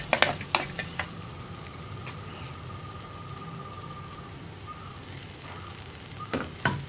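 Chili and turmeric powders sauté in oil for a lentil, okra and tomato curry, giving a soft, even hiss with sharp spatula scrapes at the start and end; no one talks.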